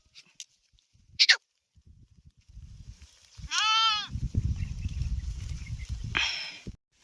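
Sheep of a grazing village flock give a couple of clear bleats, one sharp and wavering, over soft rustling and shuffling of animals moving through grass nearby.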